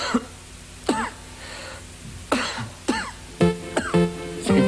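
Repeated coughing and throat clearing in a Japanese Asada Ame throat candy TV commercial, sharp separate bursts about every half second to second, close and loud.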